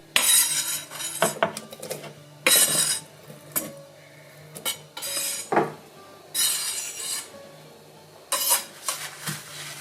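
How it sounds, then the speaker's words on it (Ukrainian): Repeated knife taps and clinks on a board, irregular and close, cutting cooked beetroot into large cubes, with scraping and clattering in between; no voices. "Відварений або ще краще запечений бурячок нарізаю досить такими великими кубиками."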